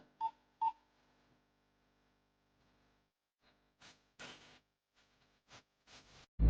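A telephone is dialed: two sharp keypad tones come close, then a quiet pause, then a run of several more beeps of varying length.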